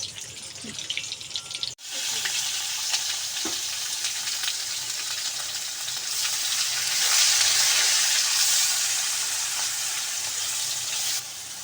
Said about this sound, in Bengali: ওদিকে মশলাটা কষাচ্ছে